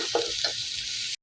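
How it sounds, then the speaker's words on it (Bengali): Spice masala sizzles in a pan while being stirred for a pangash fish curry, a brief close frying hiss with a couple of scraping stir strokes before it abruptly cuts off. "ভালোভাবে নাড়াচাড়া করতে হবে যেন আমার মশলাটা না লেগে যায়।"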